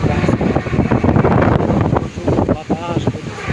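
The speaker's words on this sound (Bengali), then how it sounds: "কি বাতাস।" Strong gusty wind roars across the microphone on an open village path under darkening skies just before rain. The loud, steady buffeting hardly lets up for the whole stretch.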